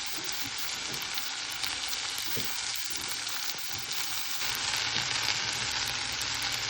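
Hot oil sizzling and spitting in a pan on a stove while potatoes are fried, a loud, dense, continuous crackle with faint stirring bumps underneath, close up and without speech.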